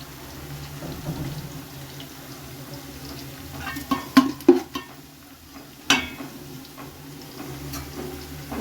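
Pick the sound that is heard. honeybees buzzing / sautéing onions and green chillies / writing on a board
sautéing onions and green chillies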